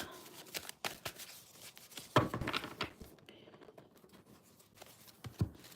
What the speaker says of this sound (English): I'm just going to give this a quick shuffle for you.